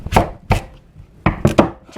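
Kitchen knife chopping through a butternut squash on a cutting board, five or six sharp, close thuds in an uneven rhythm, with no speech.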